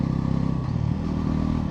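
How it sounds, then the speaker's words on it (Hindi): Close, loud engine of a 2025 Bajaj Pulsar NS 400Z motorcycle running steadily through a clutchless gear change, with a brief dip and shift in tone midway and no jolt or clunk. "विदाउट क्लच गियर को चेंज कर रहा हूँ"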